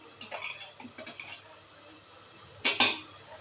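A spoon stirs bottle gourd and peanut curry in a metal pot, making a few scattered clinks and scrapes, with a sharper double clatter near the end, close and otherwise quiet.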